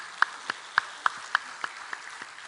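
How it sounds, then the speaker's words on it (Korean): A church congregation claps in slow, even unison, with about nine sharp, evenly spaced claps that sound somewhat distant and grow slightly softer toward the end. "하나님께 영광의 박수 올려드리겠습니다"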